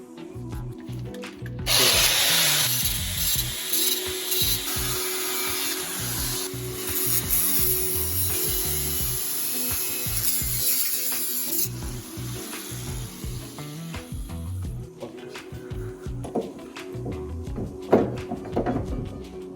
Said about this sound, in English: I guess we have to grind the mount a bit.